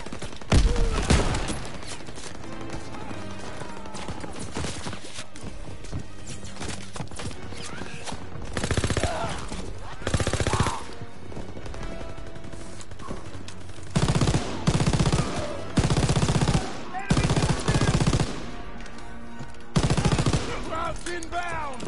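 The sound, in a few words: machine gun firing from a hayloft, video game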